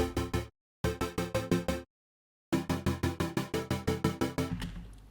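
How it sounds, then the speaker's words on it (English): Bright, buzzy square-wave Serum synth plucks in quick rhythmic bursts with short silent gaps between phrases, each note clipped and hollow, ending in a brief decaying tail. "tweaked the wavetable position to a square wave and made some synths out of it."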